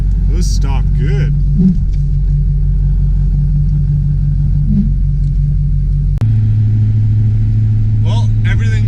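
Engine rumble and road noise from a car being driven after sitting for months, steady and close throughout, with a voice talking over it and a brief shift in the engine tone partway through.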